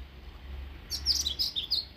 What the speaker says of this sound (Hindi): ये सुनिए, बर्ड्स चिरपिंग सुनिए माशाल्लाह